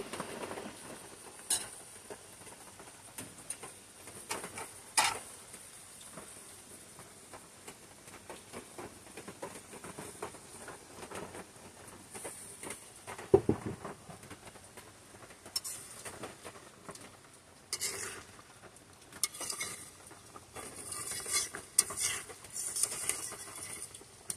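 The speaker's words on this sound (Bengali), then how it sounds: "এখন আমি পটল সুন্দরী রান্না করার জন্য ভেজে রাখা পটলগুলো দিয়ে দিব।" Fried pointed gourds tumble into boiling gravy for potol sundari and get stirred, giving a steady wet patter and bubbling with scattered clacks of utensil against pan, moderately loud and without talk.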